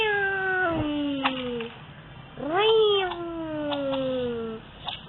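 A cat lets out two drawn-out, wavering meows, loud and close with a short pause between them, plus a few faint clicks in the background.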